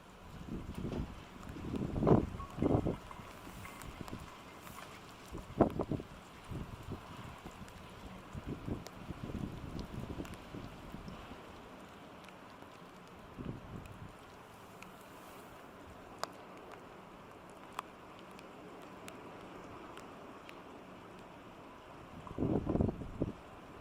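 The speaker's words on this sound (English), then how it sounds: "This Embraer contends with powerful gusts and crosswinds during its landing." Strong gusty crosswind during an Embraer aircraft landing, heard as rough, irregular buffeting rumbles through the microphone, swelling in bursts and easing between them, with no voices.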